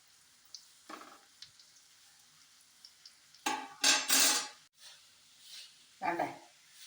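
Beef cutlets frying in a pan as each one is turned over, giving soft sizzling with a few light clinks, then louder bursts of spatter and scraping as pieces are flipped.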